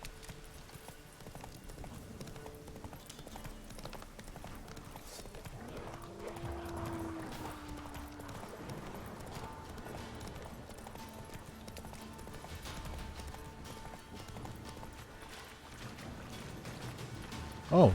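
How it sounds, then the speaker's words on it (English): Horse hooves clip-clop quickly in a steady gallop from Roach in the video game The Witcher 3: Wild Hunt, a faint, continuous rhythm under soft game ambience with no talking. "Thank you, Roach, for being able to just run over this."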